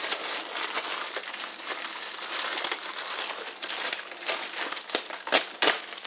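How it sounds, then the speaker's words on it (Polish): Plastic foil being unwrapped from a matte steel Brabantia storage container, steady crinkling and rustling throughout with sharper crackles and tears, close and fairly loud, no talking. "Odpakujemy go, żeby było lepiej widać jak to wygląda."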